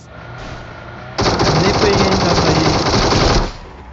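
A sudden, loud burst of rapid automatic gunfire in a video game lasts about two seconds, then cuts off, after quieter background sound.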